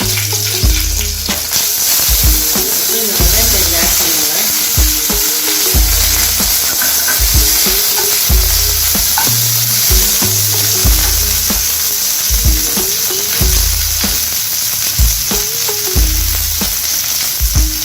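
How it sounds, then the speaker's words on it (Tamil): Cinnamon sticks and cloves sizzle in hot frying oil for a Tamil mutton chukka fry, a steady loud crackle throughout with intermittent low thumps of stirring or tapping in the pan and no voices. "இந்த பட்டை லவங்க வச்சிச்சுங்க இதில் தட்டி விடணும்"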